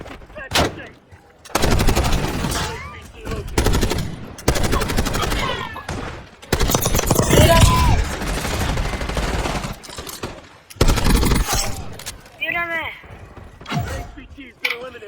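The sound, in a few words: gunfire in the video game Call of Duty: Black Ops 6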